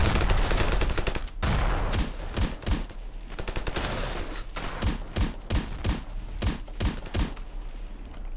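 Sustained gunfire from a Ravenfield battle, with dense automatic bursts and sharp individual shots cracking in rapid, uneven succession over a constant low rumble, loud and close throughout.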